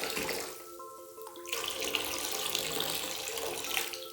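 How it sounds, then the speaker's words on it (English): Apple cider vinegar, two cups measured out, pours into a hot bath, a steady splashing stream of liquid that grows fuller and louder partway through, close and continuous with no talk. "Take your apple cider vinegar and pour it into your water."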